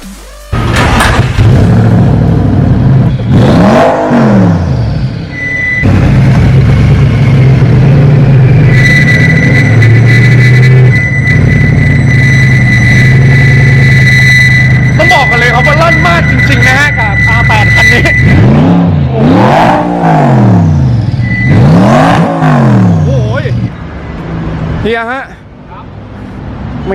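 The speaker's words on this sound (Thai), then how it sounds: "ท่อมันลั่นอย่างเงี้ยครับ" A loud twin-turbo Audi R8 Liberty Walk engine revs up and down repeatedly, its pitch sweeping high and falling back, with steady droning and some crackling from the exhaust between revs.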